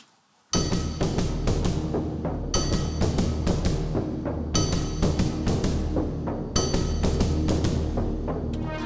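Synths and drums of an arrangement play together: dense sustained synth layers under a steady repeating pattern of sharp drum hits, with bright crash accents marking each phrase roughly every two seconds, loud and continuous.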